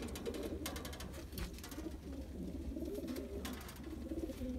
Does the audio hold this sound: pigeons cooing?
yes